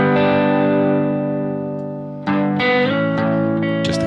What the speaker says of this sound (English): Gonna turn down the gain on the guitar